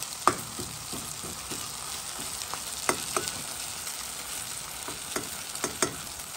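Onions fry with chili, ginger and thyme in a pan, a steady close sizzle with occasional soft pops and spoon scrapes as they are stirred, no talk.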